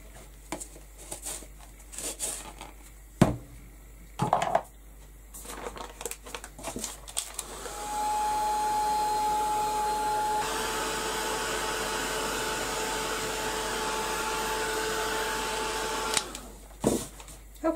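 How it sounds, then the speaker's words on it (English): A heat gun blows hot air over structure paste in a crafting setting, a steady whooshing roar with a faint whine that runs for about eight seconds between scattered handling clicks and rustles. "I'll give that a quick blast with the heat gun"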